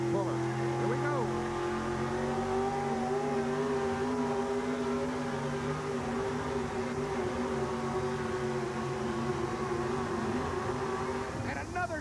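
A 4WD pickup truck drags a sled in an indoor truck pull contest at Kemper Arena, Kansas City, its engine roaring loud and sustained at high revs with a steady droning tone that eases near the end, with an announcer talking over it.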